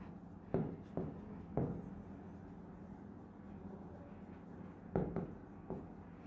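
A pen scratching on paper while geometry working is written out by hand. Several quick, faint strokes come in short clusters with pauses between them, over a low background hum.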